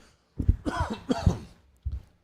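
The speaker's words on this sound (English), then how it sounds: "the more I talk, the more I cough" A few harsh coughs close by: a double cough, then another pair, and a final short cough after a pause.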